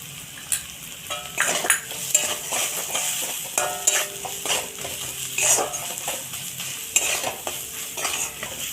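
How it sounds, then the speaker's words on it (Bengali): Turmeric and chilli powder masala for crab curry is stir-fried in a pan, with a constant sizzle under loud, repeated scraping and clinking of a metal spoon against the pot. "মশলাটা কষে নিয়েছি"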